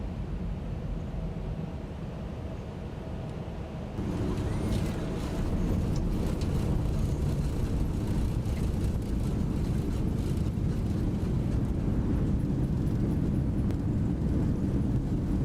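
Boeing 737-800 touching down and decelerating in the X-Plane 11 simulator, a steady loud engine and rollout roar that jumps up abruptly and holds as a continuous broadband rumble, no talk.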